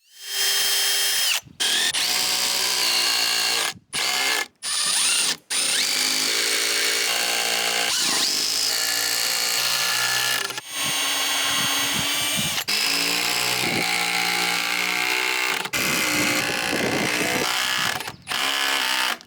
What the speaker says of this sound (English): I'm just going to put one 6-inch structural lag screw through each of the rafters